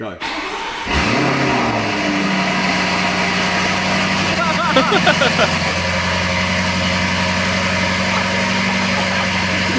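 A damaged Lamborghini Urus engine cranks and fires with a loud burst, then settles into a steady, deep, rumbling idle with a brief blip of revs; people talk nearby over the engine.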